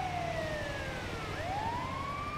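Siren of an ambulance in GTA V, a wailing tone sweeping down and then climbing back up over steady traffic rumble, loud and close with no talking.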